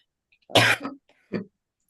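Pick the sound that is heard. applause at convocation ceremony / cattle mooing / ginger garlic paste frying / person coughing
person coughing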